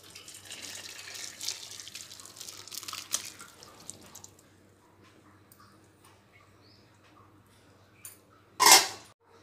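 Curdled milk for homemade paneer, split with lemon, pours through a white cloth and drains, a soft trickling splash that fades to faint dripping, followed by one brief louder splash near the end.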